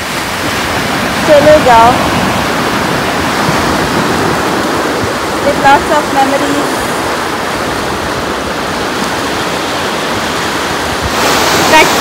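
Sea waves wash steadily onto the beach at Mandarmani, a continuous loud roar of surf with someone speaking briefly over it at moments.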